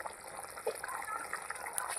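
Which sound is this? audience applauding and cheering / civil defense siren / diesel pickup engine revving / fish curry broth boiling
fish curry broth boiling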